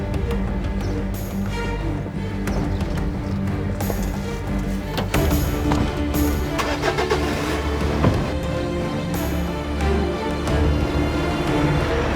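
A car engine starting and running in a dramatic scene, a steady mid-range engine rumble that carries through the whole stretch under a busy, dense soundtrack, with no clear voices.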